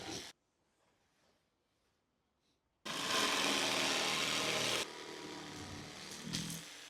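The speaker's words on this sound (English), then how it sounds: "Actually, I'm gonna do the jigsaw." A jigsaw cutting a wooden wreath ring starts after a near-silent pause with a loud, close, buzzing rasp that drops to a lower-pitched steady grind partway through the cut.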